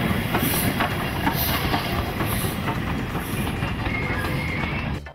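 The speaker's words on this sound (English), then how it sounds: "where to this day a steam train winds its way through the magnificent scenery." A steam train on the Adelaide to Alice Springs outback line rolls steadily along the rails with a continuous rumbling clatter and faint rhythmic clicks, heard fairly close and without pause.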